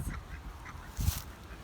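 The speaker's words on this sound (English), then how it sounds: "We got our geese back here." Farm geese in a back pen give a couple of faint, short honks, one stronger burst near the middle, with wind noise around them outdoors.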